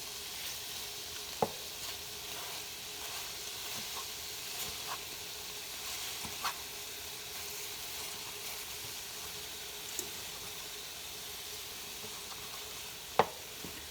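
Chicken browning in a pan for French onion chicken, a steady low sizzle running alone throughout, with a few faint clicks of utensils against the pan.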